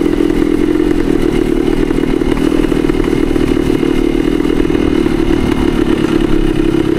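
A 1972 Yamaha DT2 two-stroke enduro motorcycle riding steadily in third gear at mid-range, a loud, close, continuous buzzing engine drone with wind rush.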